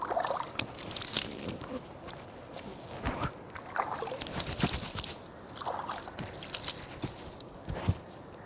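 Water scooped by hand and splashed onto the face and beard during wudu ablution, soft irregular sloshes and drips coming in short handfuls, faint and close.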